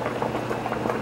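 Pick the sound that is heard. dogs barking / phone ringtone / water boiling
water boiling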